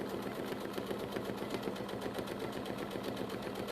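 A sewing machine stitches steadily during free-motion couching, a fast even mechanical rattle that continues unbroken at moderate volume with no talking.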